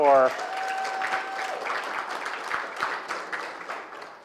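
Applause from a congregation at a church congregational meeting, thanking Nancy for agreeing to serve, steady clapping through the whole stretch after a brief spoken phrase at the start.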